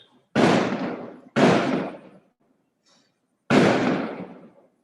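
Fireworks and firecrackers go off outside, three loud sharp bursts with fading tails, two close together and a third after a pause, alone without talk.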